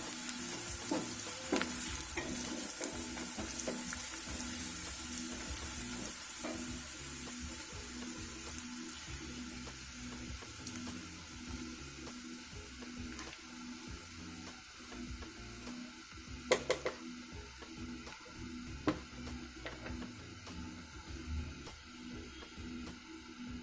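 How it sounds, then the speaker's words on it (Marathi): Dried lentil dumplings (sandge) being sautéed in a pan for a spicy curry, a steady soft sizzle with a spoon stirring and scraping against the metal, a couple of sharper clanks later on, no voices. "व्यवस्थित परतवून या करपू देऊ नका"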